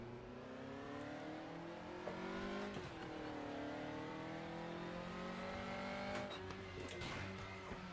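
A race car engine in RaceRoom revs hard with a straining gearbox: loud climbing engine tones broken by abrupt gear changes, then rising again, with faint tire noise.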